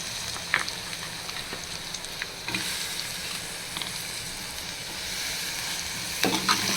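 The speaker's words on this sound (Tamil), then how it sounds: "டொமேட்டோ போட்டு குக் பண்ணிக்கலாம்" Tomato frying with onions in a pan for mutton liver fry, giving a continuous soft sizzle with a few light stirring clicks, close but fairly quiet, no voices.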